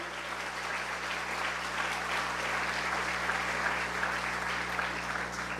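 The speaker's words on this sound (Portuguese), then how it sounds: "Aplauda o Senhor." A church congregation claps steadily and loudly throughout, a dense continuous wash of applause with a faint hum beneath and no clear speech.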